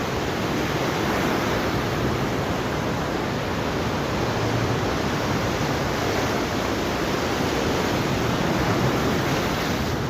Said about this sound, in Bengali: খুবই বড় ধরনের ঢেউ গুলা আইতেছে